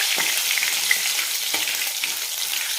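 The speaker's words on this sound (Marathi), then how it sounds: "याला पण चांगलं आपण खरपूस तळून घ्यायचं" Crushed ginger and garlic cloves fry in hot oil for a spicy potato curry, giving a steady bright sizzle with a few louder crackles and spatters, close and continuous with no talking.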